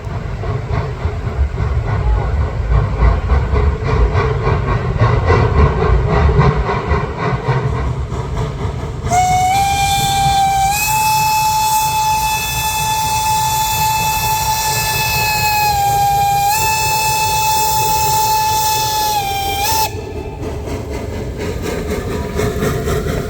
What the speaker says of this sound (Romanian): Vine a doilea tren.